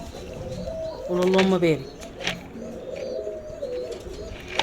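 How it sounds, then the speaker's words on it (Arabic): Roman pigeons coo softly in a low, throaty warble near someone speaking, whose voice runs over much of the sound. "حمام روماني"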